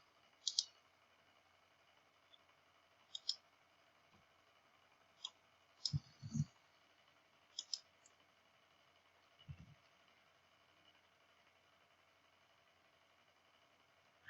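Computer mouse clicks while right-clicking a package in a Scala IDE: sparse, crisp single and double clicks scattered across a quiet room background, close and fairly faint, with no talking.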